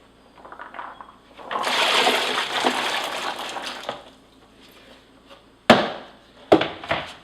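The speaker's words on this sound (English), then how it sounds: "After they've been trimmed and chopped, I wash them up in the sink, and you can use any large basin." Trimmed, chopped green beans being washed in a sink basin: water gushes for a few seconds with splashing, then quieter sloshing and sharp knocks as the beans are handled in the basin.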